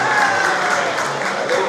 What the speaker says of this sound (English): Let's give Adiola a round of applause again.